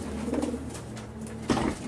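A racing pigeon coos softly nearby in a loft, a low throaty warble repeated twice in quick succession against quiet background.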